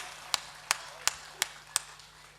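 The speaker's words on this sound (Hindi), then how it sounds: "ताली बजाइए" Five crisp, evenly spaced hand claps, fairly faint, at a Hindi poetry recital (kavi sammelan) at the 2021 Kharagpur book fair.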